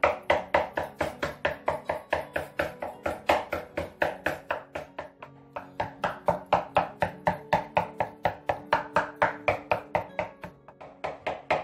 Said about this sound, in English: So after a while chopping all the meat